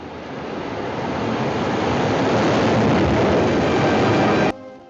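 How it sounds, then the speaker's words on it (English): A train rumbles loudly past a station platform in a steady, roaring wash of noise that builds and then abruptly drops away near the end. "There's your train."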